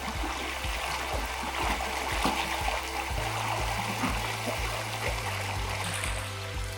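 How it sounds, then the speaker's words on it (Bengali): A strong current rushes along a stream near a waterfall in a steady, close, full wash of flowing water that never lets up. "প্রচুর স্রোত। দেখুন এই ওই যে গেলাম যে এই ঠিক আছে প্রচন্ড স্রোত।"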